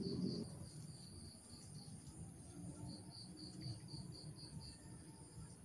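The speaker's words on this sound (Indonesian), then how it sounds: "Jangkrik." A cricket chirps in steady, high pulsed trills, close and clear, over a faint low background rumble with no talk.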